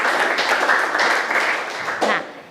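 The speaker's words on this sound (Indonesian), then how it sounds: "Tepuk tangan dulu untuk kita semua." Classroom of students clapping hands together in a dense, lively burst that tapers off near the end, close and fairly loud.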